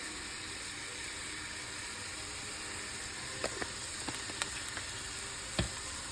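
Meat browning in a pot on the stovetop for pot roast, a steady close sizzle with a few sharp pops and clicks of a utensil toward the end.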